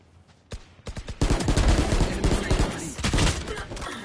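Video game gunfire rattles in dense rapid bursts, loud and close, a few single shots at first and then sustained automatic fire with overlapping reports.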